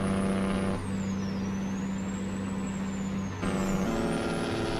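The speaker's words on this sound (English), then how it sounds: "You slam on the brakes there for big guy" Truck air brakes hiss in American Truck Simulator, cutting over a steady low diesel engine drone with a high whine sliding up and down; two brief breaks in the engine tone, no talking.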